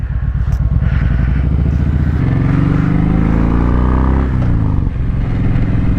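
A Kawasaki Vulcan Voyager motorcycle fitted with Sharkroad exhaust mufflers rumbles loudly and close while riding, the deep engine note shifting pitch as it accelerates and changes gear.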